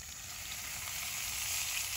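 Bacon frying over a campfire in the woods gives a steady, dense sizzle with a soft crackle, close and continuous, no voices.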